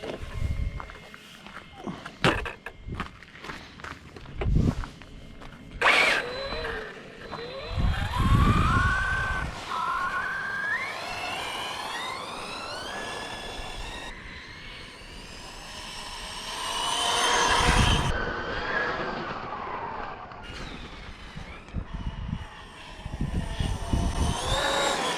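A Hobao Hyper VS2 RC buggy spins out on ice, its motor whining up and down in repeated rising bursts, with crunching and scuffing between runs.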